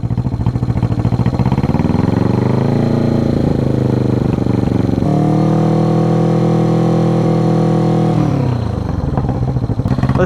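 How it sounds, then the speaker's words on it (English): A junkyard motorcycle engine revved up close and loud, its pitch rising and falling through several throttle swells before settling back toward idle. "All right, rev it up a little bit."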